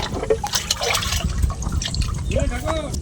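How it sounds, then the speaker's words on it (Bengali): Water scooped out by hand from a dug pit beside a bamboo fence barrier to catch fish in a Bengal village, with repeated splashing and pouring close by, while people talk over it. "জলদি করে এরকম করে জল একে একে তুলে নিতে হয়।"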